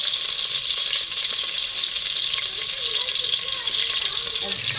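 Onions and curry leaves fry in hot oil for a Tamil goat-head curry, giving a steady, close, dense sizzle with faint stirring scrapes and no pauses.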